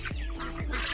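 Appenzeller Barthuhn and crossbred fancy chickens cluck in quick, close, separate calls, two short clucks in about a second.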